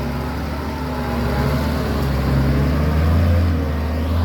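A Hino FN527 ten-wheel dump truck sits with its engine running, giving a steady, fairly loud low idle rumble that swells slightly toward the end. No one talks over it.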